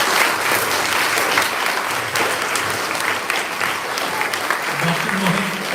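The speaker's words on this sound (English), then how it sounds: "Let's give him a big, big round of applause." Sustained applause from an audience at a community event honoring a speaker, steady dense clapping throughout with a voice briefly emerging near the end.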